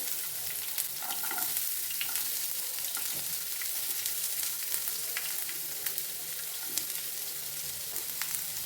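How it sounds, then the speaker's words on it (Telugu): Onions hitting hot oil that is already spluttering with curry leaves, making a loud, dense, continuous sizzle with scattered crackles and pops throughout. "ఇప్పుడు చిట్టుపట్లాడుతుంది కదా, అప్పుడు మనము ఆనియన్స్ని వేసేసుకోవాలి."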